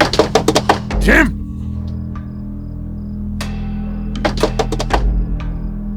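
Someone pounds on a house door in two bursts of rapid knocks, at the start and again near the end, with a raised voice shouting in between and a low steady hum underneath.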